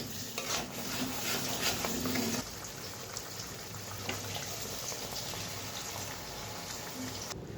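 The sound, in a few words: water poured into hot pan, sizzling and boiling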